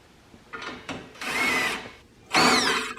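A power drill drives exhaust bolts back into a John Deere D170 riding mower engine in a few short whirring bursts, the last two longer and louder, with light clicks between them and no talk.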